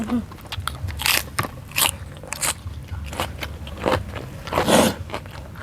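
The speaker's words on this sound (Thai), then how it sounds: "เรากินหนังจ้ะ เพื่อจะลองกินหนังดูกินเลย มันยังจะกรอบแค่ไหน" Crunchy bites into crispy fried pork skin, several sharp crackling crunches spaced irregularly with chewing between, close and fairly clear.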